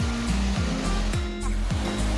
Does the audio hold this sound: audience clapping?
no